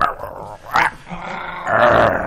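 Low, rasping dog growls rise and fall, with a sharper snarling burst in the middle and another sustained growl at the end.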